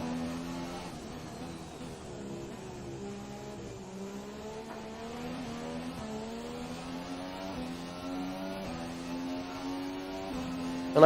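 A Formula 1 car from the F1 2017 racing game slipstreams behind a Honda around Baku, its engine holding a steady high whine that climbs through rising gear sweeps and ends on a sudden burst.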